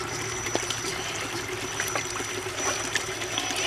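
A Gmade Sawback RC crawler driving through water in a bathtub, with a soft continuous trickle and splashing, faint motor whine and occasional small clicks, close and steady.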